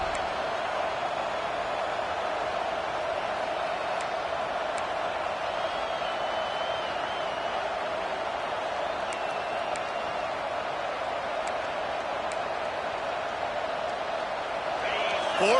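Steady roar of a football stadium crowd on a fourth-down defensive stand, loud and unbroken throughout, with an announcer talking over it.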